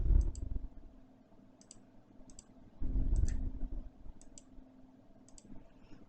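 Computer mouse clicks on a desk, arriving in quick double clicks spaced a second or so apart, crisp and close, over a faint low background rumble with no talking.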